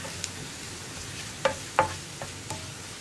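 A chili powder mixture is stirred in a hot pan, giving a low steady sizzle broken by a few sharp spoon scrapes and taps near the middle.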